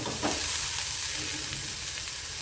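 Chopped onion frying in about a spoonful of oil for batata vada filling, a continuous close sizzle with faint stirring scrapes, no talking.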